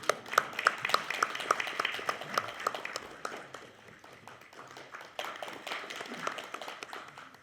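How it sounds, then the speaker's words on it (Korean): An audience at a commemoration ceremony for the 104th anniversary of the Korean Declaration of Independence claps, a scattered moderate round of applause with distinct individual claps, fading somewhat and then picking up again. "자, 큰 박수로 모시겠습니다."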